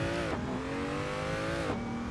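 A car in Assetto Corsa pulls away in first gear, the engine revving up steadily before a gear change drops the pitch, then climbing again to another shift.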